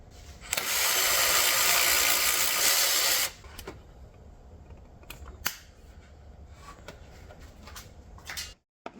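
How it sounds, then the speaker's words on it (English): A power tool or drill whirs steadily for about three seconds while unscrewing a bolt on the coolant pipe of a 3.6-litre R36 VW Passat, followed by quieter clicks and handling noises. "Next we'll unscrew this bolt right here"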